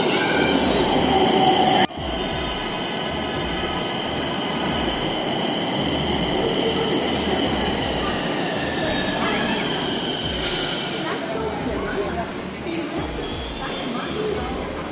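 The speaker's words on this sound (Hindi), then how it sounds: "ये आ गई है मेट्रो।" A Nagpur Metro train rolls into the station with a steady loud rumble, a rising whine and faint wheel squeal, while people talk over it.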